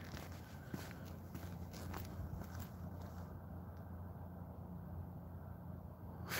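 A few soft, scuffing footsteps at the start, then a quiet low hum lingers with no clear steps.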